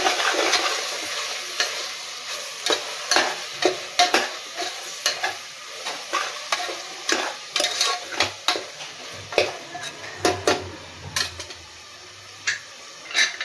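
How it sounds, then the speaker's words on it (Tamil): A tomato, onion and mint mixture for veg biryani is stirred in a sizzling pan, with repeated sharp ladle scrapes and taps against the metal over a constant frying hiss. "கலந்து விட்டுக்கலாம்"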